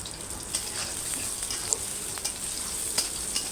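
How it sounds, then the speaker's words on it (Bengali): Chopped onion and green chillies fry gently in a pan, a soft continuous sizzle with occasional light scrapes and taps of a spatula as they are stirred, fairly quiet and close with no voices. "নাড়াচাড়া করে হালকা একটু ভেজে নেব"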